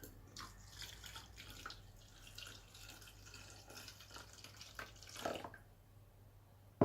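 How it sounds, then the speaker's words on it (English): Coffee poured from a portable coffee maker into a cup, a faint, steady trickling stream with a few louder splashes near the end, heard close and without talk. "And then let's pour out some coffee."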